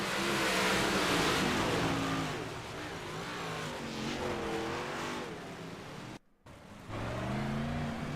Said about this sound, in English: There you see the white, orange, and black machine go down into the corner.